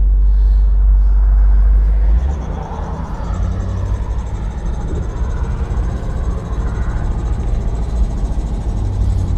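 A 1963 Cadillac's engine and road rumble while driving, a steady low drone with a loud heavy burst at the start settling into continuous cabin noise.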